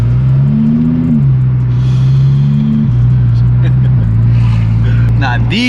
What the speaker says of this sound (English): Hopefully she don't hear my turbos.